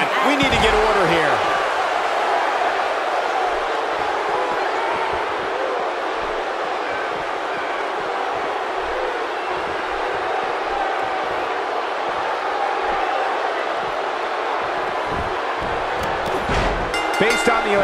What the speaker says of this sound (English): Based on the electricity that's traveling through this arena and decibel level of the crowd, I think it's safe to say the roof of this building just might blow off